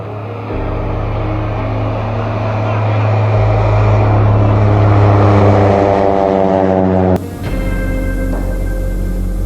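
Mooney propeller airplane climbing steeply out of a backcountry dirt strip in a canyon, a loud sustained engine and propeller drone heard from inside the cockpit, rising in pitch before a sudden shift in tone.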